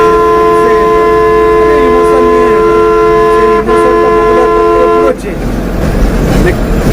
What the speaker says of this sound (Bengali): কাকু এখন পুরো ফায়ার মুডে হর্ন দিচ্ছে